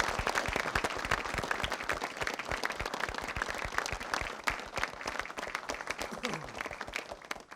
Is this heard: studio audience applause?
yes